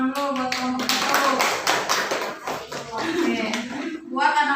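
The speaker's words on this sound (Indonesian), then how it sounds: "silakan duduk tepuk tangan dulu buat kelompok 1" A classroom of students claps for a group of classmates, a dense burst of applause that swells and thins with a few voices mixed in.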